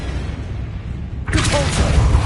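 Confringo spell explosion in the video game Hogwarts Legacy, a sudden loud burst that kicks in halfway and then holds as a dense, sustained roar through the end.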